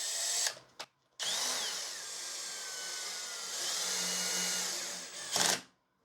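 A cordless drill driver runs steadily, close and loud, driving a screw into pre-drilled wood, with brief stops and restarts at the start and a short burst near the end.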